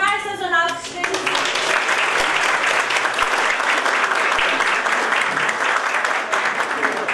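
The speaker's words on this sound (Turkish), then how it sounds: "uzmanımız Operatör Doktor Sayın Tamer Sözön alkışlarınızı." A large crowd applauds loudly and steadily at a hospital awards and New Year event, the clapping filling the whole stretch after a brief moment of voice at the start.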